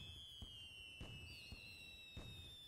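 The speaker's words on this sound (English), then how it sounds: "Oh, fireworks. Isn't that nice?" Uncle Sam's Blam Blams fireworks burn in the video game Little Inferno, with soft popping bursts at irregular intervals under faint whistling tones, all very quiet and distant-sounding.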